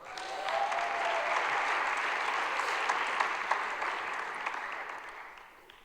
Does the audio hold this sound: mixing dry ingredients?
no